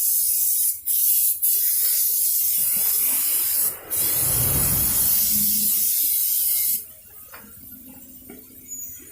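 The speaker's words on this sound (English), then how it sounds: "Spray it down with some good brake cleaner." A loud aerosol can of brake cleaner sprays in long hissing bursts, with brief pauses between them and a few faint metallic clinks near the end.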